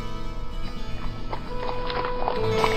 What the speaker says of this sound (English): a lone horse trod.